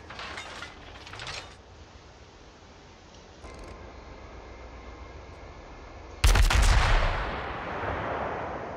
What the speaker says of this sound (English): Oh no, I'm taking fire from the Izumo.